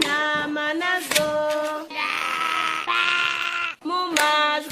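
Sheep bleat loudly and nearby in a run of wavering calls, with short pauses and a noisier stretch between them.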